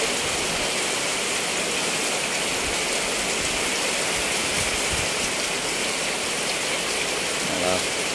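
Heavy rain pours down at a motorcycle repair workshop, a dense, loud, unbroken hiss of water filling the whole stretch without letup.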